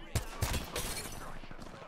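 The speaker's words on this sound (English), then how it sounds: "he's still shooting at me" Gunfire in the Apex Legends video game sounds as a short burst of rapid, fairly faint shots cracking one after another over a brief moment.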